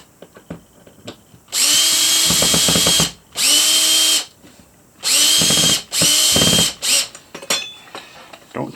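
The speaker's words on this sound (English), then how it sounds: "the fastest way to tighten that up first is to put on a" A cordless power drill fitted with a Phillips No. 2 bit drives a screw during prep work on a 1998 MYO Shark, giving several loud whirring bursts of a second or so with short ratcheting stops and gaps between them.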